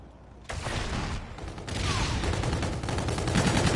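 Gunfire in a Call of Duty Search and Destroy match, a dense rattling burst of rapid shots that stops briefly then resumes, loud and continuous with no talk.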